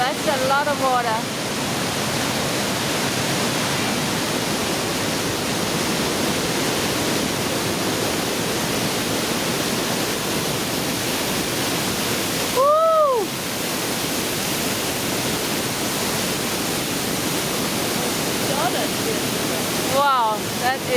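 Roaring Pailón del Diablo waterfall in Ecuador, heard up close from a lower platform beside the gigantic falls: a loud, steady wash of falling water, broken by a few brief rising whistle-like tones.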